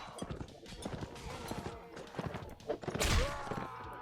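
Horse in the video game Warsword Conquest, rapid hoof clip-clops rattling along under battle noise, ending in a sharp impact burst.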